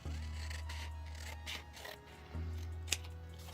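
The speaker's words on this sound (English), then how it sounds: "I'm going to trim it slightly" Scissors trim the edge of a journaling card, a few quick crisp snips and slides close up, with a sharp click near the end over low steady background hum.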